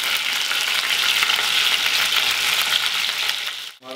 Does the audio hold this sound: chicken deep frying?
yes